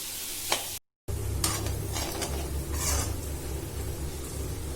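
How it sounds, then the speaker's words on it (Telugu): Chopped onions fry in hot oil for an Andhra-style prawn fry, a steady close sizzle broken by scraping stirs of a spoon in the pan, with a short dropout near the start. "ఈ ఉల్లిపాయలు గోల్డెన్ బ్రౌన్ కలర్ వచ్చేంత వరకు వేయించుకోవాలి."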